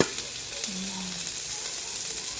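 Field frog pieces hit a pan already sautéing garlic, ginger and onion, producing a continuous hissing sizzle that stays steady and close throughout, with no talk.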